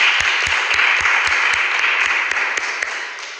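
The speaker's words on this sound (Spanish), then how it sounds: "Un aplauso, por favor, para Frida Grama" Listeners at a hearing in a legislative subcommittee on human rights applaud a speaker, a dense, loud, sustained wash of clapping with a few sharp rhythmic claps standing out, tapering slightly at the end.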